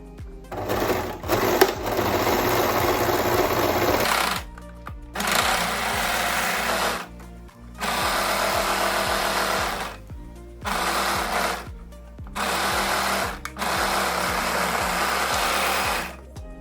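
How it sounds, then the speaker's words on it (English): An overlocker sewing machine finishes the seam allowance on a summer dress in repeated bursts, each run whirring steadily for one to three seconds before short pauses, close and loud. "now we're going to overlock the seam allowance on each side"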